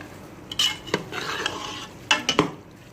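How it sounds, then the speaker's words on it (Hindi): A spoon scrapes and clinks against a pan while stirring thick minced beef, in several uneven strokes with a faint sizzle beneath. "इसको हम अच्छी तरह मिक्स कर लेंगे चमचे की मदद से"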